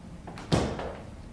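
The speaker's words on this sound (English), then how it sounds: "let me shut the door" A single door shutting with a soft thud, brief and close, in an otherwise quiet room.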